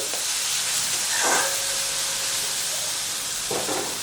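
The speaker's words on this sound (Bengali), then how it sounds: "তো মিনিট খানেকের মতো মশলাটাকে কষিয়ে নিই।" Spice masala for a Bengali-style nenua (sponge gourd) curry sautéing in a pan, with a steady close hiss and sizzle and two brief stirring scrapes.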